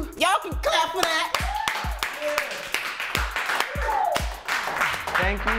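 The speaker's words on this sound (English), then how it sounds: "Y'all can clap for that." Scattered audience clapping after a song, sharp individual claps in a small studio audience, mixed with laughter and voices talking over them.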